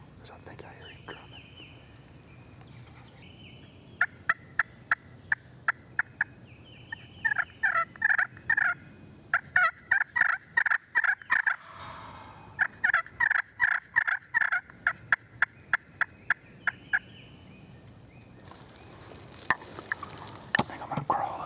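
A wild turkey gobbler in the Tennessee hills gives repeated bursts of gobbling, strong clustered calls rising over quiet woodland background in several rounds, with faint low drumming possible beneath.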